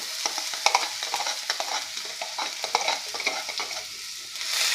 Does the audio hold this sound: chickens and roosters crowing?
no